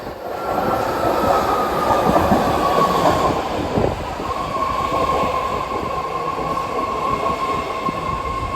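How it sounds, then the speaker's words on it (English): A BART train pulls into a station, loud and close, with a rushing rumble of wheels on rail and a steady high electric whine that holds through the arrival; no one speaks. "Here comes our train now."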